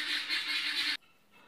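Poultry in a coop make a dense, continuous honking and squawking chorus close by, which breaks off abruptly partway through, leaving quiet room noise.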